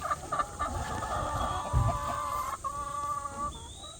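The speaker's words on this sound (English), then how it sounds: "let me count my chickens" Backyard chickens, a flock of about twelve, cluck and murmur nearby in a steady stream of overlapping calls, with a few louder squawks rising over the chatter.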